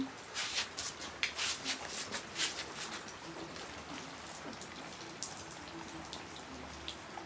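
Rain falls with a close, uneven patter of drops that comes in small bursts early on, then settles into a softer, steady spatter. No one talks.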